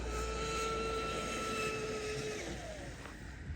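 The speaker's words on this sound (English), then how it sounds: "Get her up on plane with the wind and get a nice long pass in here." An MHZ Lizard P-class RC race boat on 4S2P power with a Castle X8s controller and 1515 motor runs up on plane with the wind, holding a loud, steady high-pitched whine that slides downward near the end.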